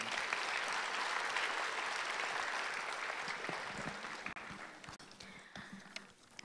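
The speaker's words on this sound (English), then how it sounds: "How about giving Aliyah another round of applause?" A graduation ceremony audience at an international private school in Dubai gives a round of applause for a student; dense, loud clapping that gradually thins out into scattered claps toward the end.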